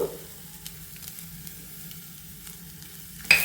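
Fennel seeds fry in oil for Mangalore-style chicken curry, a soft, steady sizzle with faint crackles, ending in a sharp louder clink.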